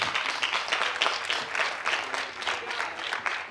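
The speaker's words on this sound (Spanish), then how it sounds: "un aplauso para Enviciarte" Steady applause from a crowd at a bicycle-week panel talk, dense overlapping claps rising and falling slightly for a few seconds, with no talking.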